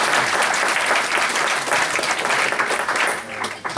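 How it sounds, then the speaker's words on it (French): An audience claps at a church inauguration in the Pays de Grasse, a steady dense applause that holds for several seconds and thins slightly near the end. "On peut l'applaudir aussi."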